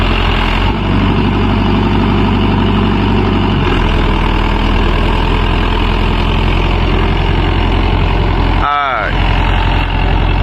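A Mahindra Yuvo Tech Plus 585 4WD tractor working a farm field with a nine-tine cultivator in four-wheel drive, its diesel engine droning loud and close throughout; a brief whining sweep rises near the end.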